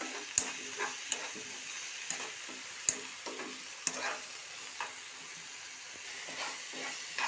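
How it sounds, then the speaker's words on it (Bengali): Potatoes and spices sizzling in a pan, punctuated by regular clinks and scrapes of a spoon stirring, close and moderately loud. "মশলা যতক্ষণ না ভাজা হচ্ছে আলুটা দিয়ে ভেজে নিলাম"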